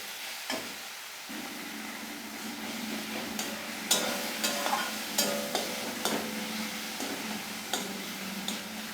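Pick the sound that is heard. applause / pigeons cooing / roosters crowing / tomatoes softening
tomatoes softening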